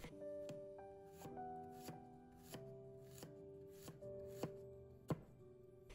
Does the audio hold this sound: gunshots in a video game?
no